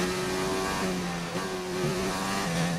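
Formula One car from the F1 2019 racing game revving hard as it re-accelerates out of a corner, a loud, steady engine whine with rising pitch steps through the gears, heard alone throughout.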